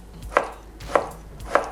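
A knife slices bamboo shoots on a cutting board, three crisp, evenly spaced strokes with quiet pauses between.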